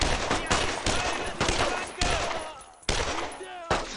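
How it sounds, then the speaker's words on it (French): Dense battlefield gunfire from the World War II game Brothers in Arms: Road to Hill 30, with overlapping rifle and machine-gun bursts and loud, sharp cracks throughout, close and continuous. "Fait que là, il va continuer à tirer."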